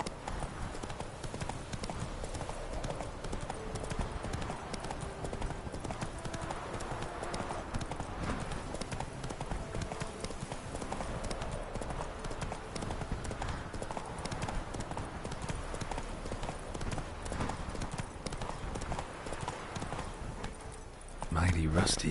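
Roach the horse gallops steadily in a video game, a continuous rapid clip-clop of hooves running throughout under game ambience and occasional voice, ending with a louder thump near the end.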